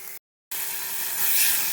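Tomatoes sautéing in a pan for quail gravy give off a steady, fairly loud sizzling hiss, cut by a short silent gap, then swelling slightly toward the end.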